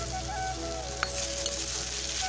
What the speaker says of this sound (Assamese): এতিয়া মই আলুকেইডোখৰ প্ৰথমতে ভাজি ল'ম।